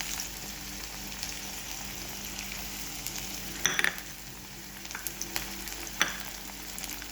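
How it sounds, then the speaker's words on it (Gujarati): Onion frying in a pan for upma, with a continuous dense sizzle. A few light clinks and stirring scrapes sound in the middle and toward the end, and no one speaks. "ઓનિયન નાખી દીધું છે. થોડુંક ફ્રાય થાય એટલે હલાવીને એમાં લીલા મરચાં નાખીશું."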